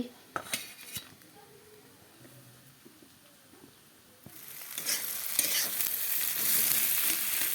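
Potato and spices being stirred in a pan with oil, with scraping and light clinks at first, then a louder, steady sizzle of frying that fills the second half.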